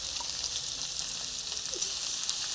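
Taro root curry with coconut paste sizzling steadily in a pan, with a soft, even hiss close by and faint stirring underneath.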